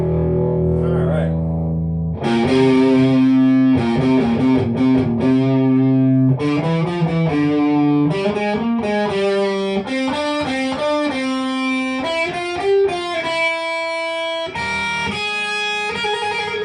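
An electric guitar with distortion plays a steady stream of sustained, buzzy notes that climb and fall like scales, loud and continuous with no talking over it.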